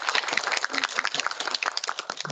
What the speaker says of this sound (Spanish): Así que le damos un aplauso para que pueda comenzar.